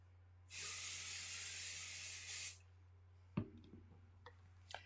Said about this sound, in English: So I've sprayed the hoop with the temporary adhesive.